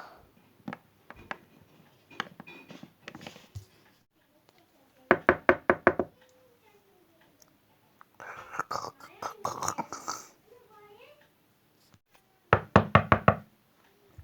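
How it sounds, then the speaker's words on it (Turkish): Knuckles rap on a door in quick bursts of four to six sharp knocks, repeated several times with pauses between, close and crisp, while a voice murmurs softly in between. "Kanka kapı çalıyor."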